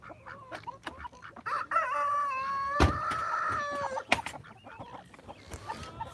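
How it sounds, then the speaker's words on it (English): Farmyard chickens clucking and a rooster crowing loudly and close, several overlapping calls with short sharp noises between them, in a quiet morning yard. "Chickens are happy."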